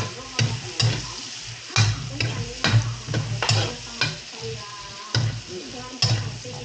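Garlic fries in a pan with a constant sizzle, broken by repeated close scraping strokes of stirring at an irregular pace.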